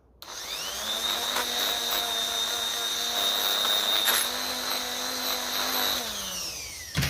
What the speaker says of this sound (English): Got a quick run of the Dremel now.